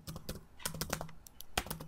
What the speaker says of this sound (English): Let me just type it for you